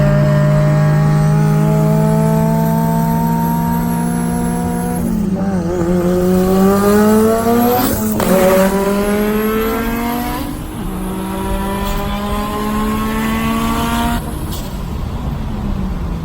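A Mitsubishi Evo 9 race car, built to roughly 550 horsepower with a PTE 6466 turbo, runs hard against an MK4 Supra. The engine screams loudly and close through repeated rising gear pulls with sharp shift breaks, and there is no talking.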